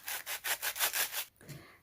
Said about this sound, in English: I'm getting rid of all of the material just by sanding it